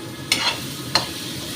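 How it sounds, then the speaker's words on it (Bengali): Masala frying in oil in a pan, with two short, sharp stirring scrapes over a faint, low sizzle. "মশলা ভাজা হয়ে গেছে"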